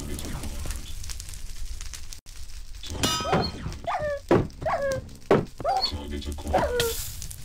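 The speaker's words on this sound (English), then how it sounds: "Back off, puppy." A dog in the survival game Craft the Future gives several short yips and barks at about three to seven seconds, clear and up close over a steady background hum of game ambience.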